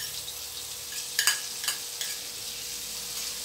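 Thai curry chili paste stir-frying in a pan, a soft steady sizzle broken by a few quick spatula scrapes and taps in the middle, close and fairly quiet, with no voices.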